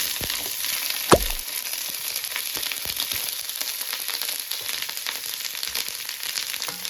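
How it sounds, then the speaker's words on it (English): Onions frying fast in a very hot pan, giving a steady close sizzle and crackle with one sharp clatter near the start and no talking. "I want to hit these onions quick, hot"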